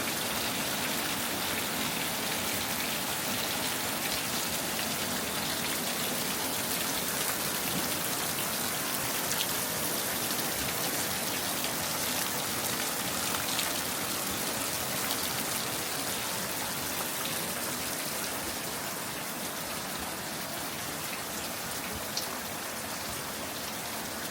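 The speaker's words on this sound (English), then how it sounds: "I know how much you guys like to see the rain, so here it is." Steady rain falls outdoors, a dense, even hiss of drops on surfaces lasting throughout, moderately loud with no pauses or voices.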